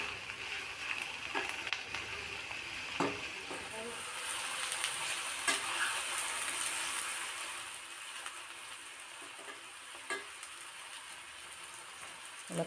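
Onions fry gently over medium-low heat for a drumstick and tomato curry, a soft continuous sizzle with scattered crackles and a few stirring clicks, fairly quiet and close.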